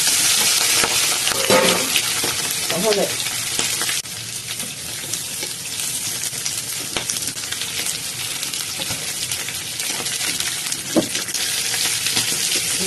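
Shrimp sizzle and crackle in hot oil in a wok, a loud, steady broadband hiss with short stirring clatters and one brief spoken line near the start.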